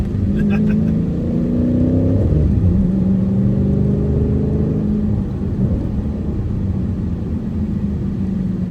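A 2023 Dodge Challenger R/T Scat Pack Widebody with a manual gearbox and Hemi V8, engine droning loud and close as revs climb, dip at a shift, then hold a steady deep rumble from inside the cabin.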